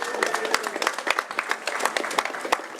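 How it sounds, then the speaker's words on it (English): Audience applause at an Africa Day 2019 celebration, a short burst of crowd clapping with distinct individual claps, fairly close. "Y'all give him a round of applause."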